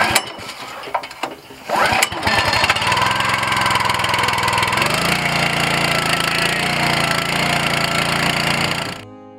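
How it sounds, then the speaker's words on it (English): Gas engine of a Champion 34-ton log splitter starts after a few pulls, then runs steadily and loudly at close range before cutting off abruptly near the end. "let your splitter warm up a little bit. Cycle it a few times, let that hydraulic fluid warm up"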